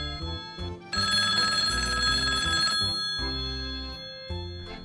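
A telephone rings in a toy play episode: a loud electronic ringing that breaks in after a short pause and holds steady for about two seconds. More rings follow in shorter bursts, with faint background sounds around them.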